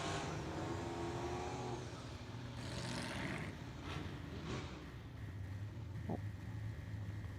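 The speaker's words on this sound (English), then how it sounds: "Jason Land Company, the 55, big blower on the 505 cubic inch big block" Supercharged drag race car, number 55, with a big blower on a 505 cubic inch big block engine, roaring loudly and steadily throughout, with crowd and announcer voices blended into the engine noise.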